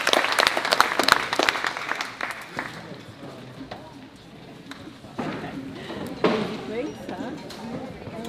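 Applause at a Pahala community meeting about Mauna Loa volcano status, a burst of clapping at first that fades, then voices talking with a few later scattered claps.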